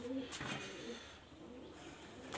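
Pigeons in a loft in Kolkata, with faint soft cooing close by and a few light rustles, quiet throughout.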